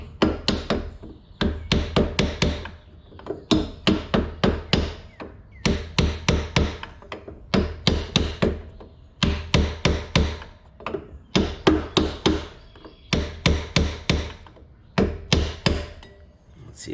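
The back of a hammer taps a pulley onto the shaft of a 1961 VW Beetle engine, landing in quick bursts of sharp metallic knocks separated by short pauses. The strikes are close and loud, with no talking.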